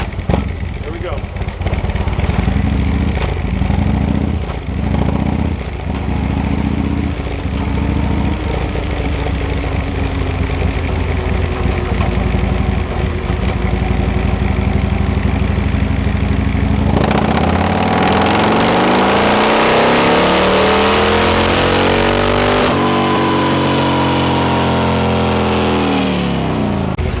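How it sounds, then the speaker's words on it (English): A Harley-Davidson Street Glide fitted with Khrome Werks inserts on a dyno: the engine is started, loping idle blips give way to repeated hard revving sweeps, loud and close throughout. "he's going to start it up, give you a dyno run"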